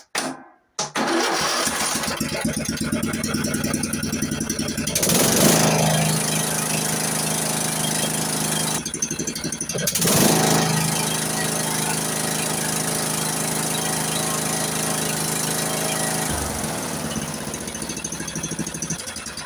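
A repaired Simplicity riding lawn mower engine cranks, catches and runs, its loud steady drone broken by two brief dips before settling into a continuous roar.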